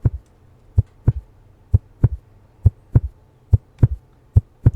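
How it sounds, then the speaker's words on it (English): Synthetic heartbeat from the anxiety mechanic of an Unreal Engine game: about a dozen close, loud lub-dub thumps in an irregular, quickening rhythm with clean silence between them. "It's delayed between the heartbeats."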